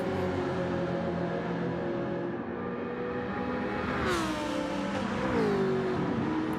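GT3 race cars lapping Daytona in a sim racing game, a continuous loud engine whine with rising and falling pitch as gears change, no voices.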